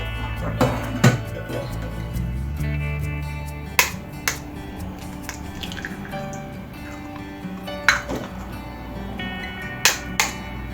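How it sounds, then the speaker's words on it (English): Three large eggs being cracked into a bowl: several sharp isolated taps and cracks spread through the clip over a faint background hum, with soft wet drips between them. "we are going to start by cracking the 3 large eggs"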